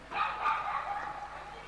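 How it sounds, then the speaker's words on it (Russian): A dog barking near a kennel in a street in Karlovy Vary, Czech Republic, a few quick muffled barks and yips at moderate distance, fairly faint. "Собака псарня, что ли?"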